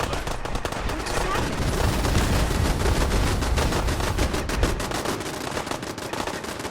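Dense crossfire in Fallout 4 from a kill box against gunners, with rapid automatic bursts and overlapping shots firing continuously and loudly while a voice talks underneath.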